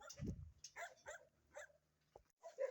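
Several dogs let out from their kennel shed while it is treated against sand fleas, giving short, moderately near barks and yips scattered among other yard sounds, with one low, loud bark near the start.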